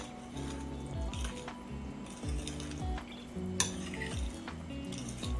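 Ackee is mixed in a pan with a spoon, producing repeated scraping strokes and small metallic clinks over a soft sizzle, fairly quiet and close, with no one talking.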